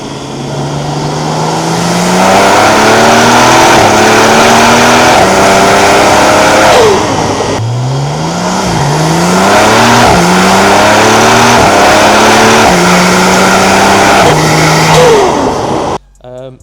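A loud Alpina engine with a Super Sprint exhaust revs up through the gears twice on rollers, each climb ending in a sharp crackle from the exhaust, close and aggressive before cutting off.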